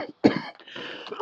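A man coughs after smoking: a few rough, harsh coughs in quick succession, close and fairly loud, ending with a sharper burst.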